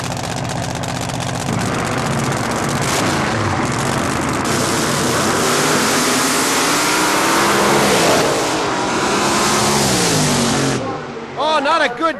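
A supercharged drag racing car roars loudly and steadily at close range as it accelerates down the strip, the engine noise sustained for most of the run before dropping away near the end under a commentator's voice.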